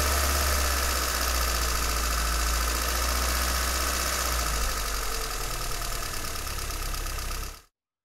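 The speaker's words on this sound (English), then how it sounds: "we're gonna record some sounds from the engine" A car engine running steadily for about seven seconds, a loud, close, constant rumbling drone with a mechanical buzz, cutting off abruptly at the end.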